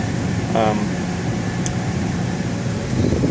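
Heater blower of a 2001 Ford Ranger running at full, a steady broadband whoosh of air filling the cab, constant and fairly loud from start to finish.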